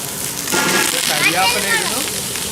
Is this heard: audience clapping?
no